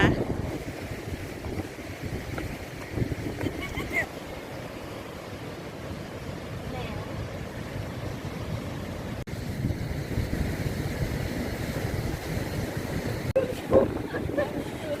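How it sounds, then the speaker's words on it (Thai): Strong wind roars into the microphone at Protaras beach in Cyprus while rough waves wash in steadily, a loud constant rumble with gusts and no clear talk. "ทะเลคลื่นเยอะค่ะวันนี้ ลมแรงค่ะ"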